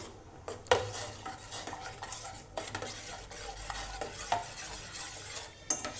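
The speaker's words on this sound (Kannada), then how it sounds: "ಎಲ್ಲ ತಿರುಗಿಸ್ಕೋಬೇಕು ಇದನ್ನು" A spoon stirs a herbal kashaya decoction sweetened with jaggery in a pot, made as a home remedy for cough and phlegm. Steady scraping and clinking strokes sound close and clear with a faint sizzle, and no one speaks.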